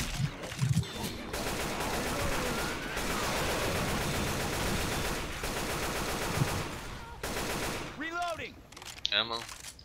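Sustained automatic gunfire in Left 4 Dead 2, with dense bursts rattling for several seconds and brief pauses between them. Voices briefly break through near the end.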